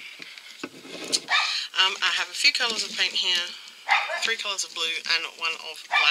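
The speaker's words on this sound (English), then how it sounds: "Excuse my doggy dog." A small pet dog yips and barks in short bursts near the microphone, overlapping with someone talking indoors in a nail-art painting session.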